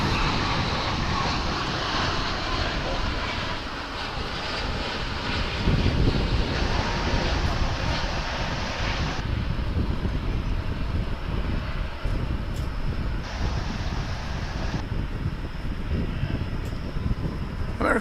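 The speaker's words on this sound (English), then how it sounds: "And here we've got a Dreamliner." Boeing 787 Dreamliner airliner passing overhead at Dallas/Fort Worth International Airport, a loud sustained broadband jet roar with wind noise buffeting the microphone for the full length.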